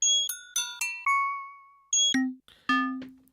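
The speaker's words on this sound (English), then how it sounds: "See what those bells sound like. Instrument, bells, great." Software instrument bells playing a short melody of separate bell notes, bright ringing tones with decaying harmonics, a few quick strikes then longer sustained notes, clear and alone.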